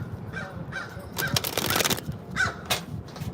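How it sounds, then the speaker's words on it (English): A crow caws several times outdoors in New Orleans, harsh calls spaced irregularly, some single and some in quick pairs, over a faint background hum. "There's a crow."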